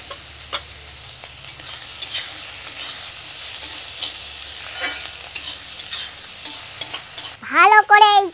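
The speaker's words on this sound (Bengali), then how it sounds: "ভালো করে এইখানে এখন কষিয়ে নেব" Fish roe masala with garlic, chopped onion, green chilli, ginger paste and turmeric sautéing in a pan, a soft continuous sizzle with repeated spoon stirring scrapes and taps, ending with a brief burst of a voice.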